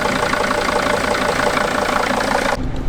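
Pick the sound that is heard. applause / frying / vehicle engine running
vehicle engine running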